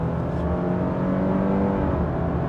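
A 2.5-liter boxer engine in a 2026 Subaru Crosstrek Wilderness accelerates in sport mode, a steady near drone with rising engine tone and no talking.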